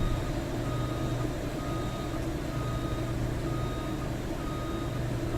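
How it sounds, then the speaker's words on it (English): A Kenworth truck idling in Farming Simulator 19, a steady low engine rumble with repeating reversing beeps sounding over it, loud and continuous, with no talk. "I forgot I left the Kenworth running"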